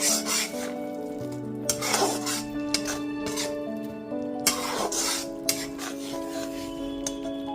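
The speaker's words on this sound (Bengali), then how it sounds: "মাঝারি সাইজের 2টো টমেটো পেস্ট দিয়ে দেওয়ার পর টমেটোটা খুব ভালো মতো কষিয়ে নিতে হবে।" Tomato paste from two medium tomatoes being stirred and cooked down with spices in a pan, with soft scraping and rubbing of a spatula against the metal over a low sizzle, close and steady with no one speaking.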